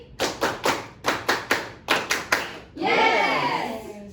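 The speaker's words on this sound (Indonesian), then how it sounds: "Tepuk 3 kali." A group of children, led by a teacher in a classroom chant, clap in quick sets of three, three clear rhythmic rounds of sharp hand claps, followed by a brief burst of noisy cheering or shouting at the end.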